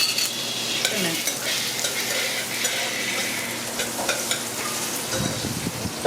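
Pepper, garlic and pimento fry in hot oil in a pot, giving a steady close sizzle with occasional stirring scrapes and clinks, and no talk.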